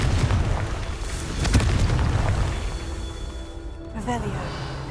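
A Confringo spell blast in a Harry Potter-style video game, a deep booming explosion swelling over a rumbling background, followed by fading crackle and small magical chimes, with a voice briefly speaking nearby.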